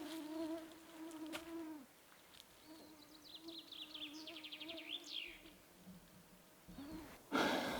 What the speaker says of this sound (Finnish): Todella paljon hyttysiä.